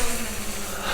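A continuous, wavering buzz of DJI Mavic 2 Zoom drone propellers hums steadily nearby as it tracks its subject, with no voices.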